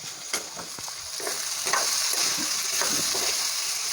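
Potatoes with a little salt being stirred in a pan for a dry Marathi-style sabzi: close, repeated scraping strokes over a soft sizzle, with no talking.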